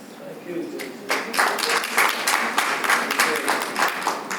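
Crowd applause at a city council meeting breaks out and continues steadily, a dense patter of many hands clapping at moderate volume with some murmuring underneath.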